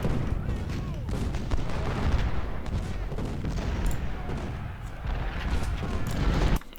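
Cannon and artillery fire in a Civil War battle around a fort at Washington, as played in Ultimate General: Civil War; a continuous rumble of booming volleys and overlapping shots, loud and dense throughout, with a voice talking over it.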